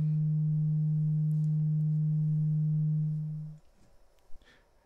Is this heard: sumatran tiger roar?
no